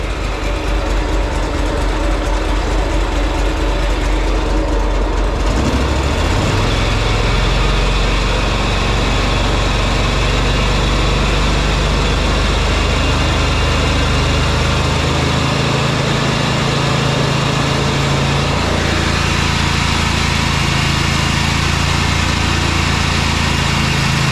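Wright Stander X mower engine with a blown motor running steadily and loudly throughout, a rough droning tone that shifts in pitch partway through as the revs change.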